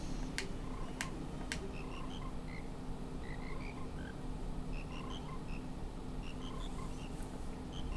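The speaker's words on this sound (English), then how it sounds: "And there they are, there's our frogs." Frogs near Don Gero in Zelda: Majora's Mask croak in scattered, bubbly chirps over a steady low background hum, with a few sharp ticks at the start.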